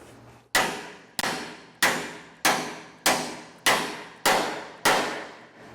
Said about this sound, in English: So I'm going to hit this with my dead blow.